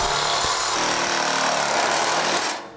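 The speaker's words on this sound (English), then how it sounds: "We used a reciprocating saw with a metal cutting blade to cut the tube." A reciprocating saw fitted with a metal-cutting blade saws through a metal tube, a loud, steady buzzing rasp that runs continuously for a couple of seconds before cutting off abruptly at the end.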